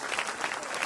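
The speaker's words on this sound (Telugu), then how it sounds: "అందరూ చప్పట్లు కొట్టాలి, ముసుగు తొలగించడం." Wedding guests clap together at the veil removal, a short burst of dense applause lasting under a second.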